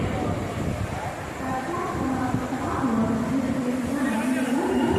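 A Karjat local train rolls through Kalyan railway station, a steady rumble with rising tonal squeals from the wheels, heard close by with a voice speaking over it.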